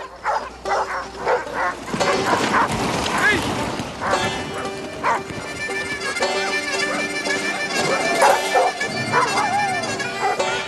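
Sled dogs in Alaska bark, yip and whimper excitedly in a busy chorus close by. A narrator's voice runs over them throughout.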